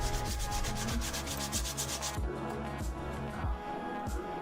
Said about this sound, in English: just sanding the edges down too, just to make them